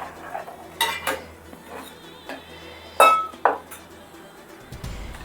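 Tempering being poured into a pot of sambar in a home kitchen: metal utensil clinks and a few sharp clatters against the pot, with quiet handling noise between them and no talking.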